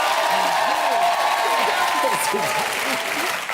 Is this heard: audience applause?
yes